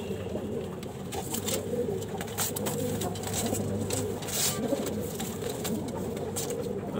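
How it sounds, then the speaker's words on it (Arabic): A pigeon coos close by in a loft, soft throaty calls repeating over a steady bed of surrounding cooing and rustling from other birds. "فرد حمام يعمل كموني، ده لسه شاب شكله"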